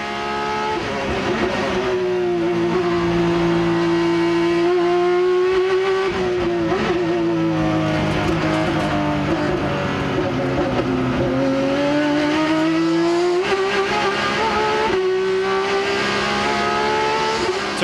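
Onboard a race car in the 2004 Rolex Sports Car Series at the EMCO Gears Classic, the engine screams loud and close, rising and dropping through gear changes with brief lifts for corners.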